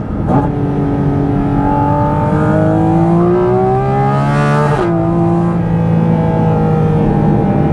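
A 2023 Porsche 718 Cayman GT4 RS engine revs loud and close, its pitch climbing steadily into a piercing, high scream before dropping sharply on a gearchange and pulling again, with no talk over it.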